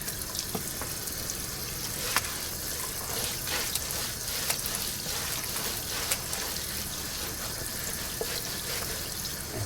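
Steady broadband hiss of warm water running from a tap, continuous and fairly close, with small splashes and clinks scattered throughout; no talking.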